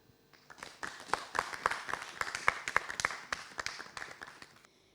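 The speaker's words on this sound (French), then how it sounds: "Sous vos applaudissements" A small crowd claps in a burst of uneven applause that swells and then tapers off after a few seconds, at a slam poetry performance on stage.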